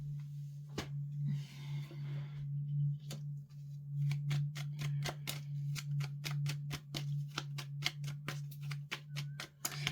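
Tarot cards being shuffled by hand, giving a run of crisp, rapid flicking clicks that grow denser and more regular in the second half, over a steady low hum.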